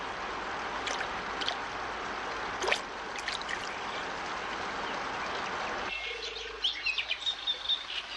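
White-throated dippers chirp at their nest along a mountain river, with short high scattered calls over a steady rush of flowing water and a quick run of twitters near the end.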